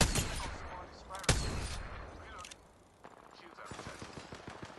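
Gunfire from the battle royale game Apex Legends, several sharp shots over a few seconds with a voice talking over them.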